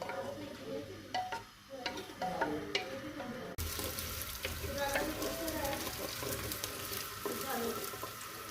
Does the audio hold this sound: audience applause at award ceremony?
no